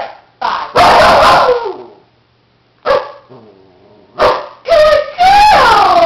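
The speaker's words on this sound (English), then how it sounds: "Butter, bark two" Butter, a pet dog trained to count, lets out several loud, close barks in short separated bursts, with a few whiny yelps mixed in and brief quiet gaps between them.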